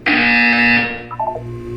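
A loud, harsh electronic buzzer from the Portal 2 video game blares for about a second, then a softer warbling tone trails off.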